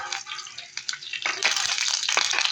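Garlic dropped into hot cooking oil in a home kitchen, a fizzing hiss that rises abruptly and sizzles loudly and close, with faint speech early on.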